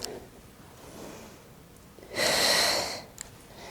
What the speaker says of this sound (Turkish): Sırtımı yuvarlarken nefes veriyorum.